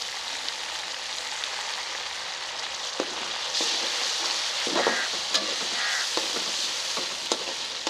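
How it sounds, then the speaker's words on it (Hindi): Masala and tomatoes fry for a fish karahi with a continuous hiss and crackle. Stirring strokes and light spoon taps sound throughout at close range, with no voices. "मसाले को अच्छे तरीके से भून लेना है"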